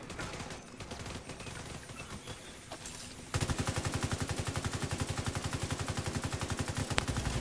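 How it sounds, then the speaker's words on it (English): Assault rifle fire in the shooter The Division 2: a muffled stretch of shots gives way to a loud, sustained burst of rapid automatic fire with an even rhythm. "Es un assault rifle"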